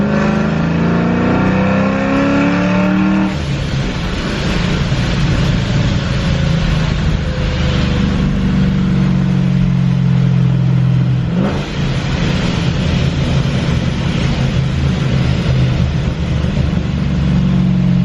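A car engine fitted with a ProCharger Big Red blow-off valve revs hard, then drops through a series of downshifts, loud and close, with pitch falling and rising between gear changes.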